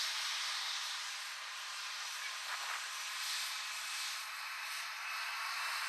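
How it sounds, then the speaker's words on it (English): A Lufthansa Airbus A319-100 jet blasting off from Manchester Airport, its engines giving a steady, hissing roar, loud and unbroken throughout, with no talking. "The roar of the engines and the whine."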